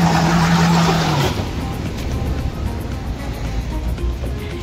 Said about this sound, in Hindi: ये हमारी गाड़ी चढ़ी ऊपर